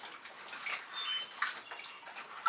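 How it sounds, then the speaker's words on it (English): Fingers rinsed in water during acrylic fluid painting, a soft continuous splashing and trickling with light drips, close and moderate in level. "Definitely in need of a finger rinse."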